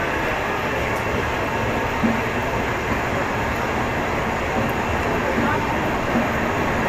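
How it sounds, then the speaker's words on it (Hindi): Gorakhpur Express pulling out of platform 3 on the main line at Tatanagar Junction at night, a steady, continuous rumble of rolling wheels and carriages with no clear voices. "हमारा हो चुका है यहाँ से डिपार्चर प्लेटफॉर्म नंबर 3 से"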